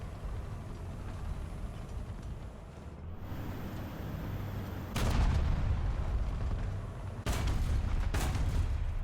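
Tank cannon fire in War Thunder from an RDF/LT light tank: two heavy booms burst out of a constant rumbling battle background a couple of seconds apart.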